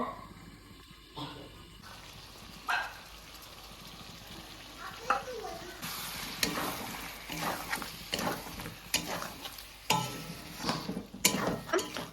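Meat curry being stirred in a pan after garlic, ginger, green chilli and coriander go in, the spoon scraping in irregular bursts with a soft sizzle underneath, growing busier toward the end.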